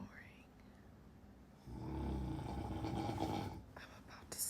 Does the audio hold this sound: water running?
no